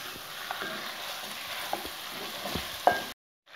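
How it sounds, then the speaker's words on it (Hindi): Chicken with spices frying in a pan for kachnar gosht, a steady close sizzle with occasional sharp stirring scrapes and clinks, ending abruptly in silence. "इसको अच्छे तरीके से भून लेंगे ताकि मसालों का फ्लेवर जो है वो चिकन के अंदर अच्छे तरीके से आ जाए"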